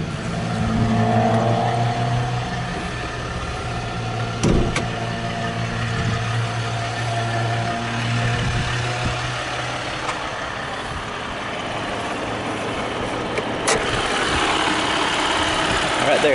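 A RAM 1500 Longhorn crew cab 4x4 with the 3.0 liter turbo diesel EcoDiesel engine running at idle, a steady close rumble with a low droning hum throughout and occasional clicks, with some talk over it.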